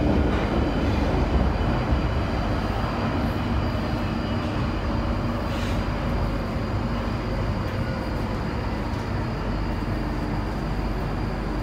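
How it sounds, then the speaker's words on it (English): A London Underground Northern Line train runs through a tunnel with a loud, steady roar and rumble of wheels on rail, heard from inside the carriage. "This is a Northern Line train via Bank"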